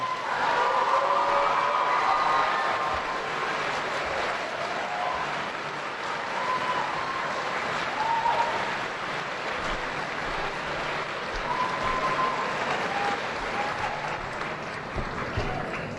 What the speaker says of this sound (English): how about a round of applause for Louis Castro?